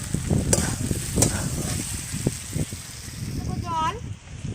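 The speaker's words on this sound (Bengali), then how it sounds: "মাঝে মাঝে ঢাকা চাপা দিয়ে দিতে হবে, আর এইভাবে নেড়ে নিতে হবে" Potato and pumpkin sizzle in a pan while a utensil stirs them with repeated scraping strokes, and a voice talks over the cooking.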